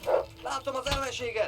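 A dog barks a few times in the medieval video game Kingdom Come: Deliverance, with short close yelps and barks during a fight, partly under someone talking.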